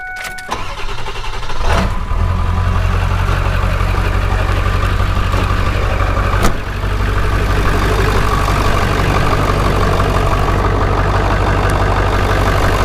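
A Ford 7.3 Powerstroke diesel with a cut exhaust cranks and fires up, then settles into a loud, steady, rumbling idle close by that continues unbroken for about ten seconds.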